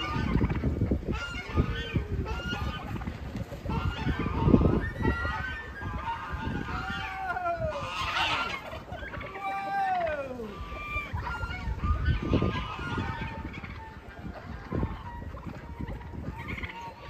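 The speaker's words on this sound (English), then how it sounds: "Enjoy the birds." Farm geese honk repeatedly in a loud, overlapping chorus, with calls rising and falling close by against a busy background of other fowl.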